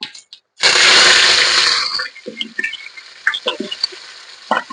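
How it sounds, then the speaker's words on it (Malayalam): Sliced onions dropped into hot oil after popping mustard seeds give a loud, bursting sizzle that lasts over a second, then fade into scattered close crackles and pops. "സവോള ചേർത്ത് കൊടുക്കാം"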